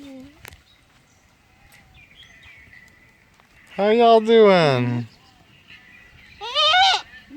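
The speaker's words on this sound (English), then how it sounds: "Hey, goats." Goats on a Virginia farm let out two loud, wavering bleats close by, each about a second long, separated by quiet, with a person talking briefly in between.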